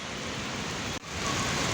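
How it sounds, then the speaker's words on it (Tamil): Steady rain pours down outdoors in a sudden, unexpected shower, a dense continuous hiss that stays loud throughout with only a momentary dip near the middle, no voices present. "திடீர்னு வந்த மழை தாங்க இது எதிர்பாராத வந்த மழை இது"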